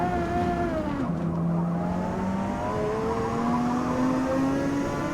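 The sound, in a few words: race cars driving in Forza Motorsport video game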